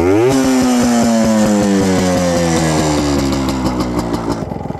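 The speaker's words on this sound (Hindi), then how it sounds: "उससे पहले मैं आपको एक बार एग्जॉस्ट नोट सुना देता हूँ।" A modified 1998 Yamaha RX 100 converted into a dirt bike revs hard. A loud, close, buzzing exhaust note climbs in pitch, holds, then drops away as the throttle closes.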